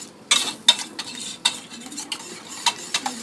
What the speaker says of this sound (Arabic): كده انا حطيت بقيه الدقيق بتاعي اهو، وافضل برضو اقلب كده